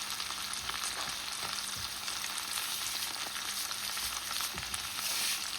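Onions with salt fry in a pan for a Tamil fish curry, giving a dense, continuous sizzle with faint stirring scrapes throughout and no voices.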